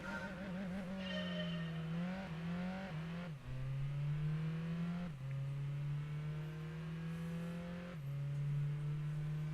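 A tuned-up Mazda Miata with a 6-speed gearbox in the racing game Gran Turismo 2 revs hard and climbs through the gears, its steady engine tone rising and dropping sharply at several clear shift points.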